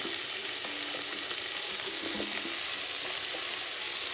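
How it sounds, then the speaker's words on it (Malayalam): Onion, tomato and green chili sautéing in oil for a sardine curry, with a close, steady bright frying sizzle and occasional soft stirring knocks of a spoon in the pan. "എന്നിട്ട് നന്നായിട്ടൊന്ന് വഴറ്റി കൊടുക്കുക സവാളയും തക്കാളിയും"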